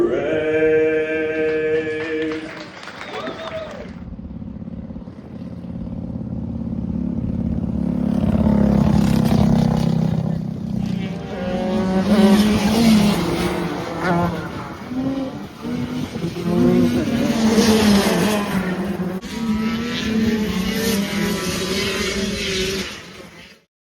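Race cars roaring past at a racetrack, a loud sustained engine drone that swells and fades as cars pass, preceded by a brief musical tone, with no talking.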